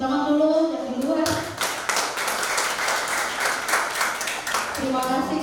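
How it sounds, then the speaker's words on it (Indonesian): An audience outside claps for several seconds at a church youth anniversary celebration, a close burst of applause that begins after someone speaks and tapers as talking resumes. "Tepuk tangan dulu yang di luar."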